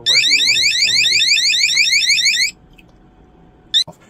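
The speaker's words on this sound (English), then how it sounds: "when these get wet, or when the sensor here gets wet, you'll get an alarm sound like such." A Govee water leak sensor alarm beeps in a loud, fast, continuous pulsing run of high-pitched tones for about two and a half seconds, then stops, followed later by one short chirp.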